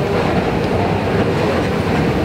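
A passenger train rumbles loudly and steadily at Canary Wharf in London, a dense continuous roar of wheels on track heard up close with no talk over it.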